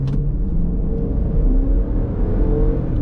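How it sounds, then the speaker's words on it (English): A Limited X car launching hard off the brake, a loud sustained engine roar and deep rumble building steadily throughout, heard from inside the car with no talking. "Let's do a quick acceleration. I'll do a brake launch and see what we got here."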